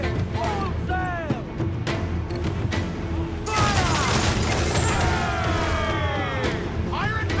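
Ship cannons fire in a naval battle in Assassin's Creed IV: Black Flag, with repeated booming volleys and clattering impacts over a dense battle din, crew voices shouting throughout.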